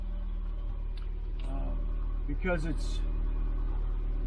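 A steady low hum from the front of a 2006 Ford Escape Hybrid runs continuously beneath a voice, with occasional faint higher whines over the idling drone.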